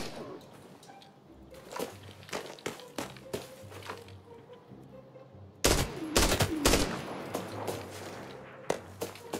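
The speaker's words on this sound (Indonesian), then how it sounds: "ada tembakan kan arah tim gua yang mati tadi" Gunfire in the video game Arena Breakout on the Valley map, scattered single shots and short bursts at first, then a loud, dense rattle of automatic fire near the middle, with no talking over it.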